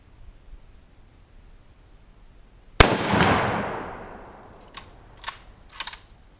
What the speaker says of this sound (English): Shot it right in that damn malfunctioning circuit breaker.